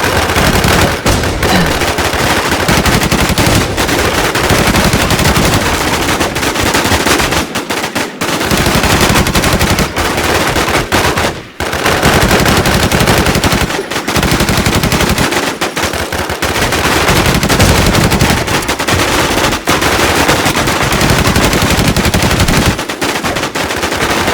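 Gunfire in the online survival shooter Infestation, long loud near-continuous machine-gun bursts with rapid repeated shots and a few brief pauses, dense and close.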